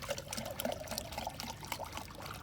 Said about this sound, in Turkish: Şimdi de kendim yaptığım karşımı biraz içine döküyorum